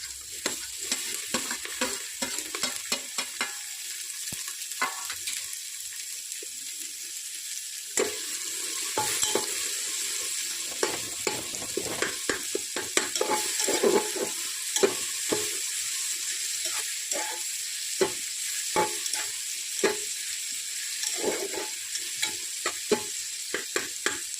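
Chopped onion and tomato fry in oil in a pan for a moth bean pulao, a continuous sizzle with close scraping strokes of a spoon stirring the mix throughout.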